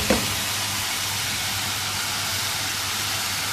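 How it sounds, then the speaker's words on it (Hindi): Chicken karahi sizzling in a pan, a constant broad hiss of frying that opens with a brief clatter and then holds steady and fairly loud with no voices. "और इसको 3-4 मिनट अच्छी तरह से भून लेंगे।"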